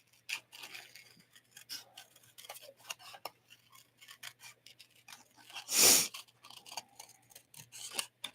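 Scissors cut a paper craft element in a series of faint, soft snips and rasps, with one louder, longer cut standing out near the end.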